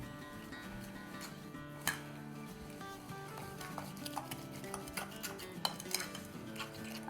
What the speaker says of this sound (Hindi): अब इसमें हम डालेंगे 3/4 कप शक्कर और इन दोनों को साथ मिला लेंगे